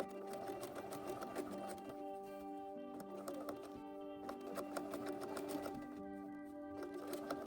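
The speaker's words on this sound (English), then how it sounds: "I'm going to sew along the edge to create the casing and leave open a 2-inch gap" A sewing machine stitches a casing along a fabric edge for elastic on a Renaissance-style dress, a steady, continuous rapid mechanical hum with rhythmic needle ticking throughout, moderately quiet and close.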